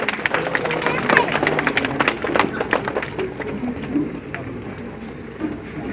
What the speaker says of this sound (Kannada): ಅವರನ್ನ ಜೋರಾದ ಚಪ್ಪಾಳೆಯೊಂದಿಗೆ ವೇದಿಕೆಗೆ ಬರಮಾಡಿಕೊಳ್ಳೋಣ.